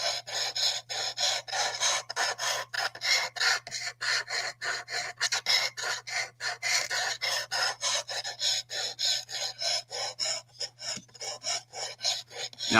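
A Cerakote EDC knife edge is drawn over a Precision Elite Sharpener in steady rhythmic strokes, a close, even rasping scrape repeating about three times a second, with no voices.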